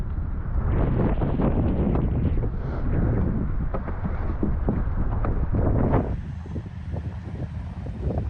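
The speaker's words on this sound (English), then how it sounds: "It is a little bit blustery right now" Blustery wind buffets the microphone in loud, gusty bursts at a snowy lakeside backcountry spot, easing slightly near the end.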